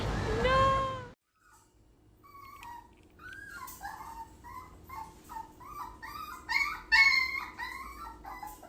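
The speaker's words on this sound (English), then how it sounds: "Look at this dog." A dog whimpers in a string of high, wavering whines and short yelps, fairly close and rising in intensity, after one louder, drawn-out cry at the start.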